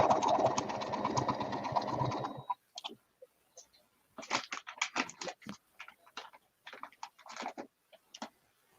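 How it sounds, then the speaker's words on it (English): A motorcycle passes by outside, a loud steady engine roar for about two seconds that then cuts off. Intermittent clicking and tapping follow in the quieter stretch. "Oh, motorcycle riding now."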